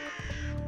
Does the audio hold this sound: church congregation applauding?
no